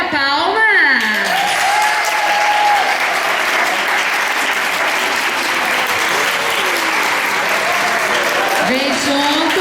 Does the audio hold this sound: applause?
yes